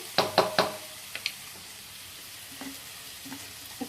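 Onions with sesame seeds and green chillies cooking in a pan: a few sharp knocks and stirring clatters at the start, then a soft, low sizzle with occasional light clinks.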